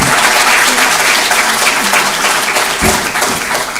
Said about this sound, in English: May we have a louder round of applause?